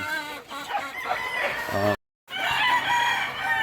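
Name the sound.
young hens (pullets) calling, ready to lay eggs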